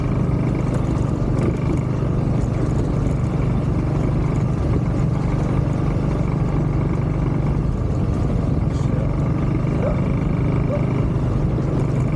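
A Kymco motorcycle ridden along the coast at Kilyos near Şile, its engine a steady, loud drone under constant wind rush for the whole ride, with no clear break in the noise.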